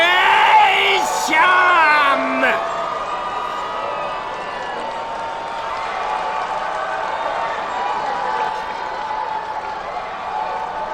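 An arena crowd in the visual novel game Steins;Gate Elite roars and yells, loud shouting voices up front that fade into a sustained, more distant cheering murmur.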